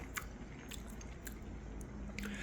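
Soft, close chewing and biting on seasoned amaranth greens namul, quiet crisp bites over a low steady background hiss.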